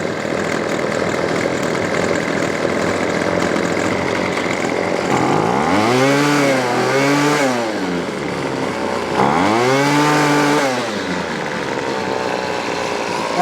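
A Weed Eater Featherlite SST25 string trimmer that won't idle down and keeps its head spinning runs steadily and loudly up close, its buzzing two-stroke engine swelling in pitch twice before settling back.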